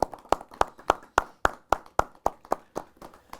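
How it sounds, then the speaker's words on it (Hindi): Steady rhythmic audience clapping at a Christmas singing show, about a dozen sharp claps at an even pace, close and clear with no voices. "ऐसे लेजेंड के लिए हमें ज़रूर तालियां बजानी चाहिए"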